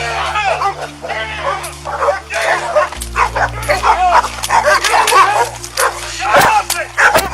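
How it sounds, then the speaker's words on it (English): A pack of dogs surrounding police officers yaps and barks rapidly and excitedly, close and loud, under a steady hum of tones, with people's voices mixed in. "an out-of-control dog biting passersby in the area"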